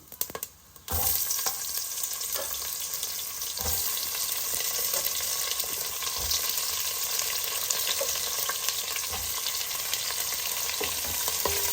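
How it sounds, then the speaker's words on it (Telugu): Onions frying with shahjeera in a pot for bagara rice, a loud, steady sizzle that begins after a brief quiet moment, with a few faint clinks of stirring and no talk over it. "ఉల్లిపాయలు వేసేస్తాం ఉల్లిపాయలు బాగా వేగాలి"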